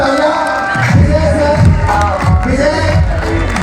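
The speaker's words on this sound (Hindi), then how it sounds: "प्लीज जोरदार तालियां।" A large audience at an RCM company celebration in Ranchi, Jharkhand fills the space with dense, loud, continuous crowd noise of cheering and clapping, with whoops rising over a steady roar.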